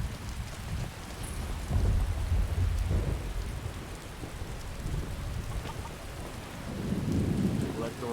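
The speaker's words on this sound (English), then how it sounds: "I'd like to get out of the rain" Steady rain hisses over low rumbling thunder that swells and fades, a continuous stormy wash with no voices, in the video game Skyrim.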